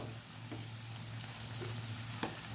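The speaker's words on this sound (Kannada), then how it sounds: "ಜಸ್ಟ್ ಗೋಲ್ಡನ್ ಬ್ರೌನ್ ಬರೋವರೆಗೂ ಕರಿಬೇಕು, ಕಪ್ಪಗಾಗಬಾರ್ದು." Oil sizzles softly and steadily as karachikayi, a traditional north Karnataka sweet, deep fries until golden brown. The hiss is faint and continuous, with a few small pops.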